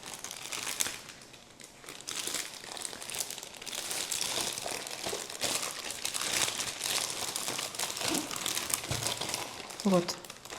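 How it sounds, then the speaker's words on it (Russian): Plastic bag crinkling and rustling steadily as stuffed peppers are packed into it for freezing, close and continuous, while someone talks over it. "Я использую вот такой пакет."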